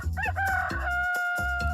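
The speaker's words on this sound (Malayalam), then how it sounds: "അതേസമയം എല്ലാ കോഴികളും വളരെ ഒച്ചത്തിൽ മത്സരിച്ചുകൊണ്ട് കൂവിക്കൊണ്ടേയിരുന്നു." Cartoon roosters crow loudly in a short, close burst of overlapping cock-a-doodle-doo calls, with no talk over them.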